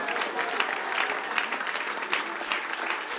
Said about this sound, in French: acclame très fort le Seigneur